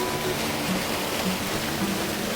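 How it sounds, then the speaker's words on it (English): Waterfall beside a campground office, a steady broadband rush of falling water, close and continuous with no talk over it. "There's an awesome waterfall here."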